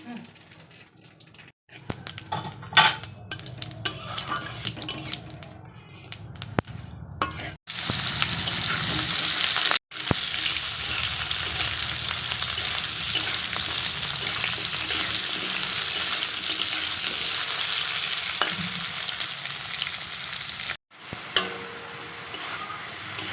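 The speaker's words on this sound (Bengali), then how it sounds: "মশলা আলু সয়াবিন আদা বাটা সব কিছু একসাথে দিয়ে দেওয়া হয়েছে ভালো করে কষে নিয়ে" Soybean chunks, potato, ginger paste and spices sizzling loudly as they sauté in a pan, with repeated stirring scrapes. Brief gaps and clatter come early on, then a long, steady close frying hiss, with a voice heard now and then.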